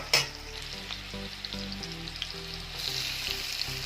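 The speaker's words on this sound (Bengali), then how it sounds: "আলুগুলো ভাজা হয়ে এসছে এবার আমি পেঁয়াজ দিয়ে দেবো" Potatoes and onion fry in a pan for an egg bhujia, a steady close sizzle with a few stirring scrapes and a louder burst of hiss near the end.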